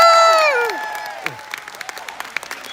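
An audience at a chocolate expo panel cheers and applauds, a loud burst of whoops fading into scattered, sharp claps with a few shouts close by.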